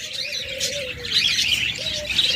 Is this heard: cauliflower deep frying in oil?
no